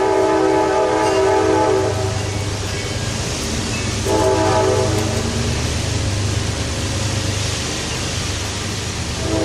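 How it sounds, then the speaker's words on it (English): A train rumbles steadily nearby with a sustained horn blast sounding over the rolling noise, then a second horn blast midway. "because there's a train coming"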